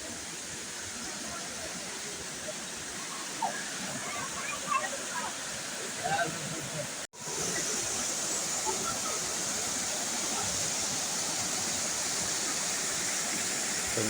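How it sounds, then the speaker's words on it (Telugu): Elephant Falls in Meghalaya, a multi-step waterfall, roars as a steady, loud, broadband wash of falling water, continuous throughout with a brief cut midway and a voice faintly underneath. "వాటర్ ఫాల్స్ అది ఎంత అందంగా ఆహ్లాదకరంగా ఉంటుంది."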